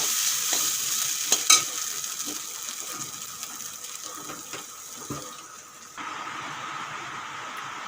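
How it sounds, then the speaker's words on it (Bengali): Ivy gourd peel frying with egg in a pan: a soft, continuous sizzle with scattered scraping and stirring clicks, one sharper clatter early on, and no talking. "ডিম দেওয়ার পরে দু মিনিট ভেজে নেব"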